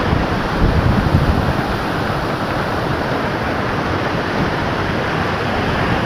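Water rushes steadily at Baliguda dam in Kandhamal, Odisha, as a loud, unbroken roar that fills the whole stretch with no pauses and no voices.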